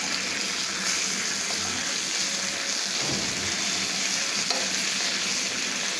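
Dal (lentils) frying in a pan in a home kitchen: a steady, even sizzle with faint stirring, continuous and close for several seconds, with no voices.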